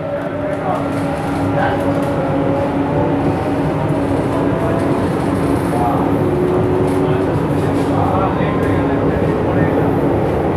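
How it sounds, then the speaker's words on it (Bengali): A Kolkata metro train pulls out of a station with a loud, continuous rumbling drone and a rising motor whine, while a voice speaks over the noise. "ট্রেন ছেড়ে দিল নির্দিষ্ট সময়।"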